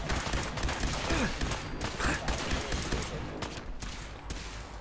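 Gunfire in Fallout 4, a rapid fusillade of loud, close shots and bursts repeating throughout with a dense battle rumble beneath.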